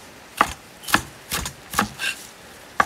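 A knife rough-chops cilantro on a cutting board in about six sharp, evenly spaced thwacks, close and clear with no talk.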